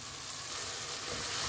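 Chopped onion and carrot fry in a pan while soup is being prepared, giving a steady, close sizzle that holds for the whole stretch with no voices.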